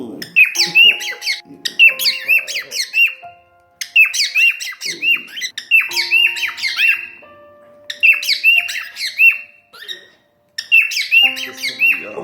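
Flappy, a pet bird, lets out repeated loud, close squawks and shrill chirps in short bursts separated by brief silences, with faint tonal background sounds between calls.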